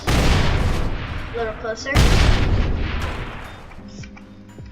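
Explosions in the People Playground video game, two heavy booming blasts with rumbling debris filling the clip, the second striking at about two seconds, while a voice talks over them.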